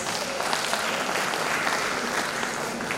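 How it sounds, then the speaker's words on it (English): A crowd at an International Women's Day gathering applauds steadily and evenly for three seconds, the clapping dense and sustained with no voices rising above it. "Can we give her a round of applause?"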